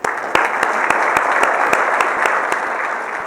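An indoor audience applauds to welcome two speakers at an evening talk on solar energy, a dense, steady clapping close by with a few louder individual claps standing out.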